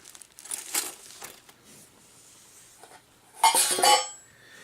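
Aluminum foil wrapped around cardboard crinkles in a few close, short bursts with quiet pauses between, the last burst the loudest.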